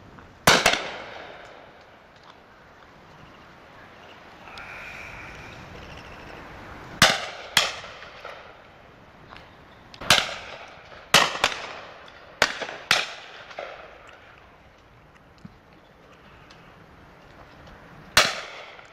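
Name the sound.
shotguns firing at pheasant and partridge on a shoot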